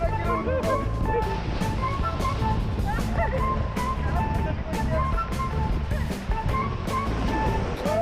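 Whitewater river rapids surge and splash around a raft in the Himalayas, making continuous loud churning water noise with sharp splash bursts and shouting voices mixed in.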